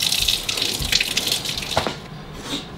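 Cold water gushes steadily from a household tap into a sink, a continuous close splashing flow throughout.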